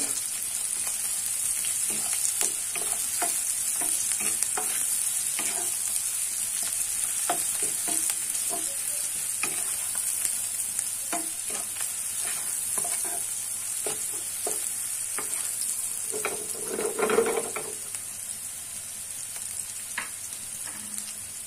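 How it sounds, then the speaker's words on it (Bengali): Onion and green chili frying in oil in a pan, a steady hiss of sizzling with scattered crackles and pops and brief scraping stirs, one louder burst near the end. "প্যান দিয়ে তেল দিয়ে পেঁয়াজ মরিচ দিয়ে দিয়েছি। তো এটা একটু ভেজে নিব"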